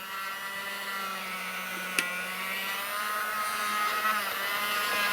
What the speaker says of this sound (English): put the locomotive on here so that it's over the cloth. Crank it up again.